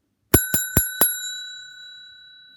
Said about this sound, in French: Quand je sonne ma petite sonnette, là, on se tait